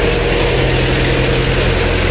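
A passenger launch engine drones steadily and loudly up close, a constant low rumble with vibration and no pauses.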